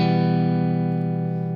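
A sustained chord from the UJAM Virtual Guitarist Cinedream virtual guitar on its hardest character setting, brighter and more mid-heavy, holds steady with no voices over it.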